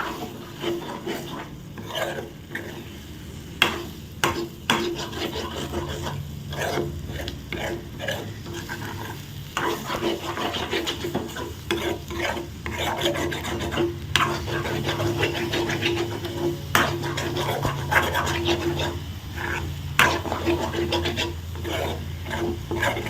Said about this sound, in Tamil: அடுப்பை ஃபுல்லாக வச்சு கையில் வச்சு நல்லா இந்த மாதிரி பொறுமையாக கிளறணும்.